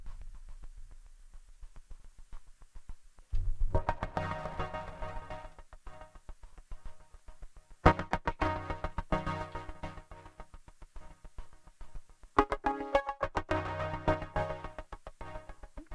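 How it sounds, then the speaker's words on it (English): Distorted techno-style chord stabs from a Disting X module in a modular synth setup, punchy rhythmic hits entering after a quiet opening and swelling in bursts, played alone without talk. "these other chords are coming from the Disting X"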